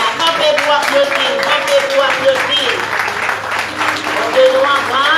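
Church congregation clapping during a worship service, steady loud applause blended with singing or talking voices that run throughout.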